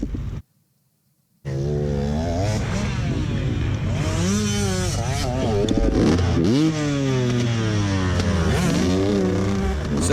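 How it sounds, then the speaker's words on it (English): A dirt bike at an off-road race at Big River ORP fires up after a brief silence and runs loud and close, its engine revving in repeated rising and falling sweeps. "There's bikes continuing to go by me as I'm trying to get my bike started here."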